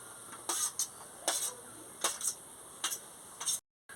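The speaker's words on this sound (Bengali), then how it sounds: "এবার আমি এটাকে ভালো করে মিশিয়ে নিচ্ছি" A spoon clinks rhythmically against a bowl while fruit custard mixed with grapes, cherries and coconut is stirred, giving about six short, bright taps spaced roughly evenly, close and fairly quiet, with no talking.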